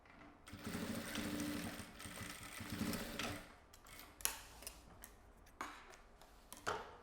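A sewing machine stitches fabric under its presser foot while a two-compartment pencil case is sewn, a steady fast mechanical whirr lasting several seconds, followed by scattered clicks and taps as the machine stops and the fabric is handled.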